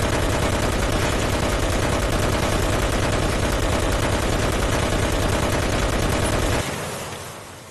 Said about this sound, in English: The nice thing about the Bessa machine guns, in my experience, is that they don't overheat very quickly